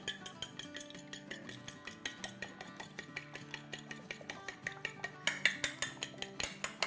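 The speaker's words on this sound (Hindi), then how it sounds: "सबसे पहले एक अंडा तोड़ते हैं और इसको हम फेंट लेते हैं" A single egg beaten in a bowl with a fork or whisk for a kids' breakfast recipe, a steady run of quick, close clinking strokes against the bowl, keeping a regular rhythm throughout with no talking.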